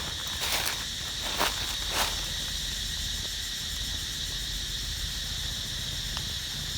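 Cicadas buzzing in a tropical forest garden, a steady high-pitched drone throughout with a few sharp pulsing bursts early on, moderately loud and with no talk.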